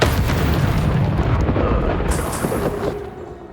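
A roaring, crackling burst of fire from the Incendio spell in the Hogwarts Legacy video game, a loud, dense whoosh and rumble that sustains for a few seconds before gradually fading.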